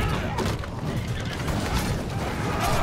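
In the Conqueror's Blade battle game, a horse neighs loudly amid dense, noisy combat sounds that run steadily throughout.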